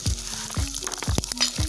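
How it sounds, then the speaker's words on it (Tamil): Coriander seeds and cumin fry in hot oil outdoors for a chicken curry, a crackling sizzle punctuated by a series of regular low thumps, with no talking. "கொத்தமல்லி, சீரகம் போட்டு எண்ணெயில் வதக்கிடுங்க"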